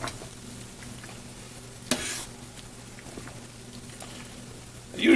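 Fresh spinach cooks in a pan with a soft, steady sizzle, broken by a few stirring scrapes and one brief louder rustle.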